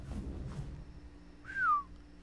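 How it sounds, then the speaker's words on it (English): A short rising-then-falling whistle command to a tamed dragon in the video game ARK, a single clear whistle heard alone against faint background hum. "all I did was whistle follow and he instantly was done walking"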